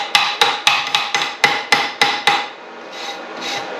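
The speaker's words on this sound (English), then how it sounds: "the little wire brush and the hammer" A burst of quick, sharp metallic taps from a small hammer chipping slag off a flux-core weld made with a 110V welder, about ten in a row, close by, followed by faint wire-brush scraping.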